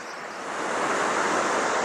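A waterfall at Silver Falls, Oregon, pouring as a steady broadband rush that swells slightly louder and then holds, with no voices.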